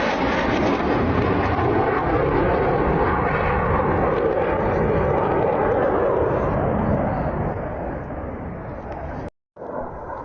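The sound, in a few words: Su-25 attack aircraft flying low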